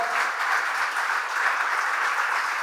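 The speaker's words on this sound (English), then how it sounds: "let's give them a huge round of applause, everybody" Sustained applause from a crowd, a dense, steady wash of clapping with no pauses, fairly loud and continuous throughout.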